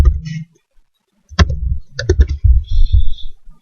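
Computer keyboard keys are pressed while working in Blender: a handful of crisp, close clicks, some single and some in quick pairs, separated by short pauses and low room sounds.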